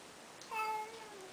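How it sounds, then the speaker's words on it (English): A single faint, thin meow from a pet cat indoors, brief and plaintive, with nothing else around it. "He's got the saddest little meow in the world, doesn't he?"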